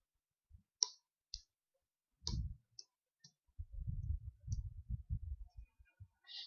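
Keys tapped on a computer keyboard while entering a word into a spreadsheet cell in MS Office: a handful of sharp, close clicks at irregular spacing, followed by soft low thumps and rustle.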